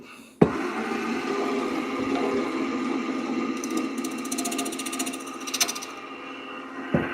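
A wood lathe spins steadily while a turning tool cuts a tenon on a wooden birdhouse, giving a continuous rough whirring scrape with a few knocks, nearby and alone.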